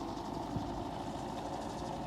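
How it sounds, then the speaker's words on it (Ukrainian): An MTZ Belarus 892 tractor working a field, its engine running as a steady, even low drone heard alone at moderate distance, with no voices over it. "Трактор МТЗ"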